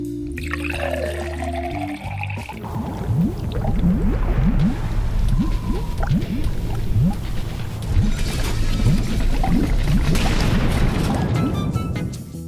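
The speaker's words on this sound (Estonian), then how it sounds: "Täna näitan teile vulkaani purset." Model volcano eruption for a school science project, with liquid poured in to set off a loud, continuous bubbling, splashing gush that builds after a brief start and carries on steadily for several seconds.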